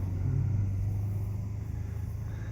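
An old red 1989 Ford truck's engine rumbles low and steady as it pulls in, close by and fairly loud, with no voices over it.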